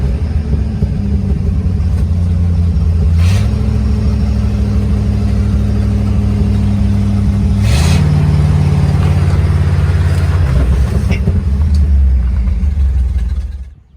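A 1966 Ford F600 truck engine, running with a carburetor fuel leak, rumbles loud and close, its pitch rising twice as the throttle is opened and eased back before cutting off at the end, with no talk.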